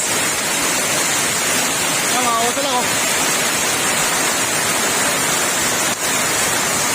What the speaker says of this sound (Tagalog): inabot kami ng ulan. Ang lakas.